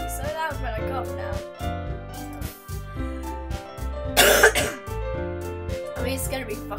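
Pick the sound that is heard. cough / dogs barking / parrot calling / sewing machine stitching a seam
cough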